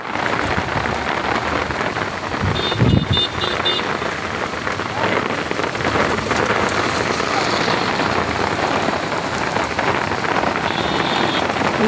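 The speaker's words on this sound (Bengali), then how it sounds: "অসম্ভব বৃষ্টি নামছে, দেখছেন?" Heavy rain pours down steadily outdoors, a dense, loud wash of drops drumming on surfaces throughout, with a brief thump partway through.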